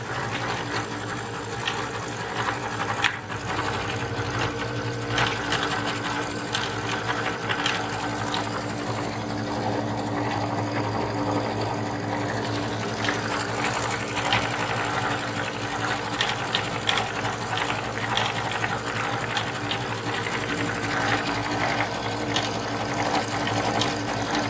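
Dream Machine sewing machine stitching a mug rug in its embroidery design mode, a continuous loud mechanical whirring and rattling that runs steadily throughout without pause, with no talking.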